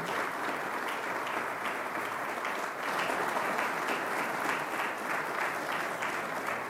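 Steady applause from an audience welcoming Congressman Richie Neal, a dense, even patter of many clapping hands that holds at a constant moderate level for several seconds with no voices over it.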